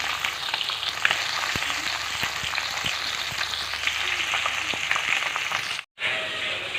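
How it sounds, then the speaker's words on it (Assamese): Fish, a singhi catfish, half-frying in hot oil in a kadai wok: a steady, loud crackling sizzle with scattered pops throughout, a brief gap near the end, and no one speaking. "এতিয়া তেলতে ফ্ৰাই কৰি লওঁ হাফ ফ্ৰাই কৰি ল'ম মাছকেইটা এনেকৈ কেৰাহীত হাফ ফ্ৰাই কৰি ল'ম"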